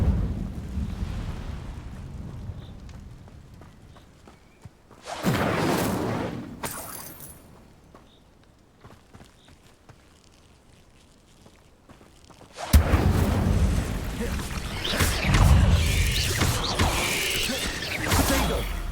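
Spell combat in Hogwarts Legacy with an Incendio fire spell cast amid Expelliarmus: loud whooshing bursts around five seconds and a sustained, roaring blast of effects from about thirteen seconds on, with quieter mechanical game ambience between.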